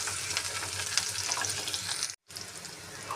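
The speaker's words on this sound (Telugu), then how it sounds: "ఈ మిర్చి అయితే వేసుకుందాం. ఫ్రై చేద్దాం మంచిగా." Sliced onion and finely cut green chillies frying in a pan for homemade Maggi noodles, a steady close sizzle with a brief stir-clatter and one short dropout near the end, no voices.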